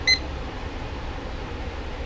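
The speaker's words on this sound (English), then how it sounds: "There goes our timer." A kitchen timer gives one short, clear electronic beep at the start, then stops, leaving a low hum of boiling canner water while pickled peppers and onions are processed.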